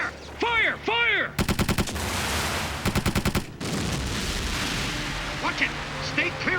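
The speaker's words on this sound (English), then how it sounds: "Open fire. Fire! Fire!" Rapid bursts of shipboard gunfire from an anime naval battle, loud and close, coming in two sharp rapid-fire volleys between shouted commands and followed by rumbling aftermath.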